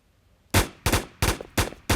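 Four sharp, loud gunshots from a Squid Game 2 video game, fired in an even rapid rhythm after a brief quiet moment.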